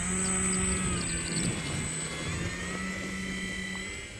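An Arrows Husky RC model airplane powers up for takeoff, its electric motor holding a steady high whine with a droning hum underneath, loud and close at first and then slowly fading as it pulls away.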